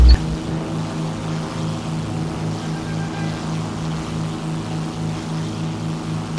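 Propeller airplane engine in a flight simulator game, a steady droning hum after a brief thump at the very start, held at an even level with no voices.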